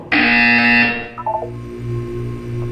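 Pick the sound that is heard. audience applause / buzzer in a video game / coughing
buzzer in a video game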